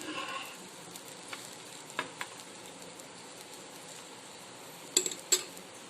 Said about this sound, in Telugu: రెండు వైపులా బాగా కలర్ వచ్చేంత వరకు బాగా ఫ్రై చేసుకోవాలండి.